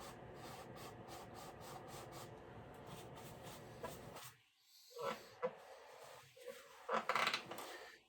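A paintbrush scrubs in quick crisscross and figure-eight strokes against a canvas, making soft, repetitive rasping rubs that pause, then return in a few scattered scratchy bursts.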